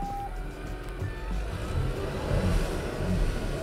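A crossover SUV's engine revs hard with the accelerator floored while a wheel hangs unloaded off the ground. It makes a loud, steady, droning roar that swells slightly toward the end, with no voices.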